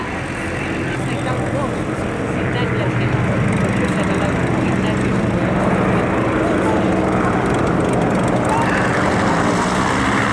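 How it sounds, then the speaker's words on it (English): Two Supermarine Spitfire Mk IX fighters fly overhead, their propeller engines making a loud, steady drone that holds without a break from start to finish. "as we get 2 Spitfire 9s airborne underneath"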